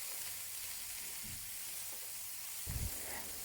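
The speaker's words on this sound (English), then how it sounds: "add the mushrooms and also the carrot and continue to saute until the mushroom and the carrot turn soft" Mushrooms and carrot sautéing with onions in a pan give a steady, soft sizzle and hiss, with a couple of brief low stirring scrapes.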